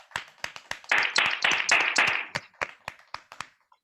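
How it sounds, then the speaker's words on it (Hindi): A small audience at a business plan meeting claps to honor the women present: a few scattered claps build into a brief burst of clapping, then thin out into sparse single claps that fade to silence. "उनके सम्मान में होलसेल में तालियां चाहता हूं"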